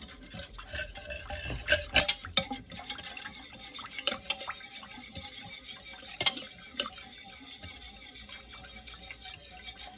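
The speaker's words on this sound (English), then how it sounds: "now mix the ingredients together until combined." Almond extract and other cake batter ingredients stirred in a bowl for a chocolate almond marshmallow cake, a steady scraping and clinking of a utensil against the bowl with a few louder knocks, close and without talk.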